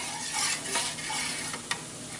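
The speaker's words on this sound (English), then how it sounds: "Keep on stirring, honey. You want to get all the yolk blended into one bowl." Eggs are whisked in a bowl for scrambled eggs at a home breakfast, a soft rhythmic swishing and light scraping with one sharp clink near the end, quiet and close, with no speech.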